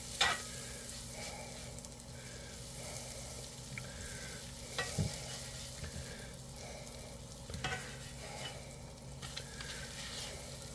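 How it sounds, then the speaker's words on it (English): Butter sizzles steadily as it melts in a pan and gets stirred around the sides, with a soft continuous frying hiss and occasional light scrapes and taps from the utensil. "So get my butter in there, melt it completely down, get all my sides covered."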